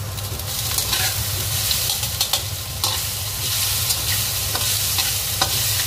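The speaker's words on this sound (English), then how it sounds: "I'm going to fry a little bit to help to cook it. Just fry it for maybe about 5 or 6 minutes." Finely diced potatoes fry in a pan with a steady, close sizzle and occasional scrapes of stirring, heard alone without voices.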